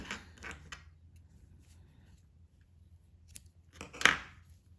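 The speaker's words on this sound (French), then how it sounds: "Ensuite, une maille en l'air et je coupe mon fil." Scissors snip through crochet yarn, a couple of soft clicks early and one sharp, louder snip near the end against a quiet room.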